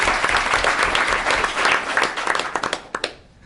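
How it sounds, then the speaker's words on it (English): An audience at a school awards ceremony claps in full, dense applause that thins out near the end into a few scattered individual claps. "A round of applause for Kayla."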